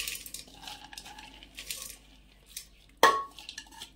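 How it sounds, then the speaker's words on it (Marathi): A single sharp metallic clank as washed, soaked dal is tipped into a pressure cooker, standing out loudly against quiet kitchen background. "इथं कुकर घेतला, ह्या कुकर मध्ये आपल्याला ही डाळ काढून घ्यायची आहे"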